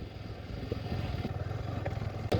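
A Yamaha R15 sport motorcycle rides along a rough dirt road, its engine a steady low drone with faint clatter from the uneven surface throughout.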